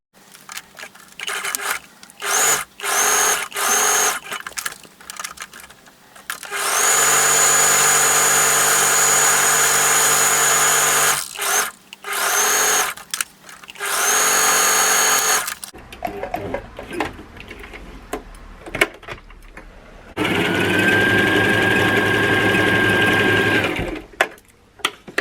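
A sewing machine stitches a skirt being refashioned into a dress, running close by in several bursts of steady whirring, some short and some long, separated by brief pauses.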